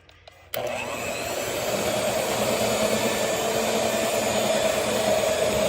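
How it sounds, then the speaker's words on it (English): An electric mixer whirs into sweet potato pie filling, starting abruptly after a quiet moment and then holding a steady, loud motor drone that builds slightly as it runs. "I'm going to mix this up really good."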